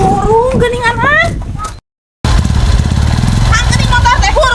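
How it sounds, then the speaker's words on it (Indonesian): A motorcycle engine runs close by with a revving, wavering buzz that breaks off in a short silent gap and then resumes as a steady loud drone, while voices talk over it. "Motor teh hurung geuningan ah."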